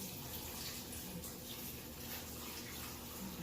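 A gallon of cold water poured into a stock pot holding chicken, a steady, faint gush of liquid running continuously.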